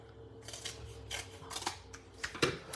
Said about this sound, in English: I find it's easier to trim these big pieces with my big scissors